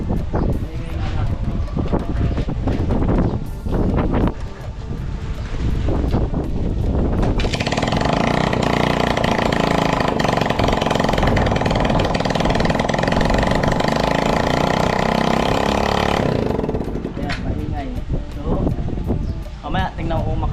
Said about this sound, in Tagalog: Maingay lang tambutso na ito kasi nga kinuha ni Kulo, nilagay dun sa isa.